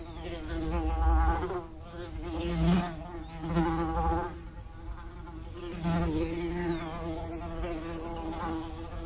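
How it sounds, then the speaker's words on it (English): A bee buzzes continuously in 8D audio, its drone swelling and fading in loudness as it sweeps near and away around the listener, with no talk. "I'm gonna play some sounds of a bee flying around."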